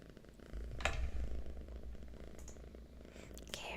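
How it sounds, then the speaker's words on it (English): Two cats purr together in a low, steady rumble that runs close and continuous throughout, with a few faint rustles above it and no talking. "Oh, double the purrs."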